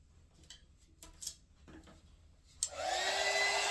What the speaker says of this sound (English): Just helping it out with the heat gun a little bit